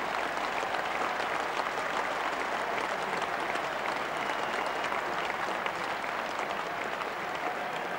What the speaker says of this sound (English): Randall goes to rapturous applause